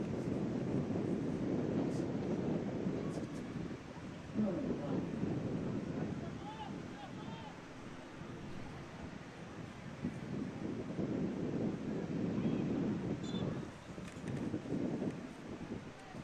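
Strong night wind buffets the microphone at a high school women's lacrosse game in steady, roaring gusts, a low rumble that swells and eases throughout, with faint voices in the distance.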